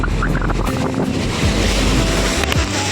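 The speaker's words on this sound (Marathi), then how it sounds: "लाटा तुम्ही पाहू शकता, लाटा खवळलेला आहे, समुद्र खवळलेला आहे इथे" Rough, churning sea surf on the Konkan coast of the Arabian Sea, a continuous loud roar of breaking waves mixed with gusty wind buffeting the microphone.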